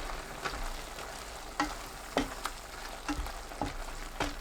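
Radish greens in a cooking pot are stirred with a quiet bubbling simmer underneath, marked by several soft, spaced scraping knocks of a spoon against the pot.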